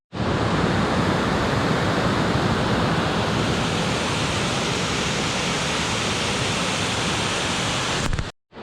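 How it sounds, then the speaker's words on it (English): Dense, unbroken roar of a waterfall at the Delaware Water Gap, a loud steady rush of falling water heard close up with no pauses, cutting off abruptly at the end. "So I just saw the main part of the falls."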